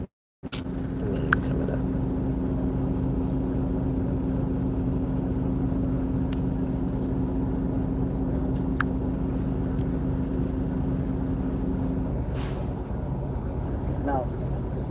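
Tractor trailer truck driving, heard from inside the cab as a steady low engine and road drone throughout, with people talking over it.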